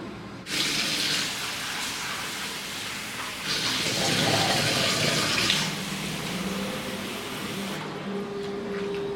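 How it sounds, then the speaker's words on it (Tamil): Onions for a raita are rinsed under a running kitchen tap, a close, steady gush of water that surges louder midway, then cuts off abruptly near the end. "அந்த வெங்காயத்தை வந்து நல்லா தண்ணியில் ஒரு மூணு முறை அலசி எடுத்துகிட்டு"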